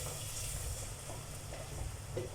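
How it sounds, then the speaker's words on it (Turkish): Onions sizzle and crackle in a pan, a soft, continuous frying hiss with small pops, quiet and close. "Soğanlarımı doğradım şöyle. Onlar kavruluyor."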